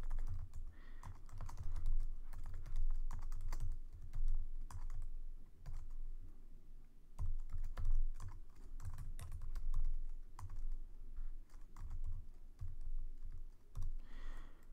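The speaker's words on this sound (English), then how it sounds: "And I'll just make I'll just keep on typing." Someone types continuously on a computer keyboard while entering lines of code, with close, quiet, irregular bursts of key clicks and brief pauses between them.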